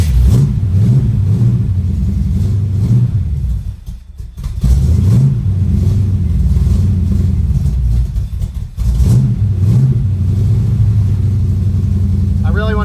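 383 V8 in a Chevy El Camino with a Holley 750 carburetor and new exhaust, close, loud rumbling engine revving in repeated surges, dipping briefly between blips, with a voice talking over it.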